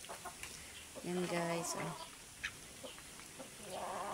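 Ducks and chickens being fed at a backyard farm cluck, with one short, clear call standing out over ambient noise while someone talks.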